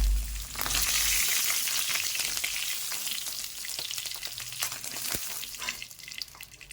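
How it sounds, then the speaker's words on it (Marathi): Paneer frying in hot oil hisses and crackles steadily up close, loudest at the start and easing slightly, with occasional sharp pops and a knock from the utensil. "अशा पद्धतीनं आपण सगळे पनीर तळून घेऊ ते पहा गुलाबी गुलाबी पनीर तळलेलं आहे"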